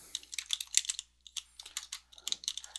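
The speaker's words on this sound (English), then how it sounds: "And I'm going to type in my login." Login being typed on a computer keyboard: close, crisp keystrokes in quick bursts, with a short pause partway through and no talking.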